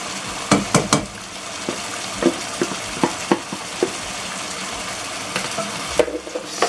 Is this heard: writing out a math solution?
no